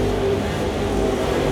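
Dirt late model race cars roar past down the back straightaway at Cochran Motor Speedway, a dense, droning blur of engines, loud and steady at a distance.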